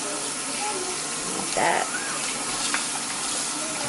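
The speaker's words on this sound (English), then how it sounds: "now I'm just gonna run some cold water over them" Cold tap water runs steadily over calamari rings in a sink, a loud continuous splashing gush with a brief surge partway through, while a voice speaks quietly over it.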